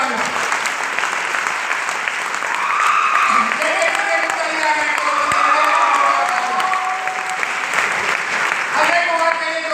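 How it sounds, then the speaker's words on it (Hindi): An indoor crowd at an awards-style gathering breaks into loud, sustained applause with some cheering, while a presenter keeps talking over the clapping on a microphone. "जोरदार तालियां।"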